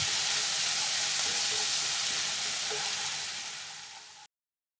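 Curry leaves sauté in hot oil as the tempering for vaal shaak, a Gujarati lima bean curry, giving a close, steady broadband sizzle and crackle that eases slightly before stopping abruptly.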